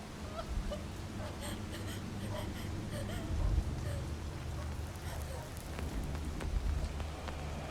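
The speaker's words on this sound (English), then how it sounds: "it's already raining" Soft, steady rain in a video game, a faint continuous patter with scattered drops under a low ambient rumble.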